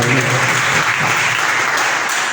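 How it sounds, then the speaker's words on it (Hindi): Loud, close applause from an audience at a political party ceremony in Pratapgarh honouring democracy defenders, a dense continuous clatter of clapping filling the whole short stretch. "आपकी तालियों की गड़गड़ाहट से हम हार्दिक स्वागत करते हैं"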